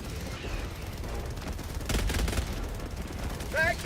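Rapid gunfire rattles in Helldivers 2, a sustained burst that runs until the magazine empties, loud and dense with a few louder shots near the middle.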